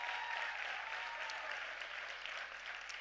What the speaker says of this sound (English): can we give another round of applause to Jacqueline Nickelberry